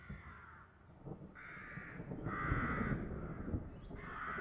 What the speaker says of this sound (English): and the sound of crows?